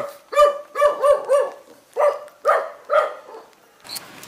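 A dog barks in a back alley in Vietnam, a run of about seven loud, close, tonal barks in an irregular rhythm, ending with a brief noisy rustle.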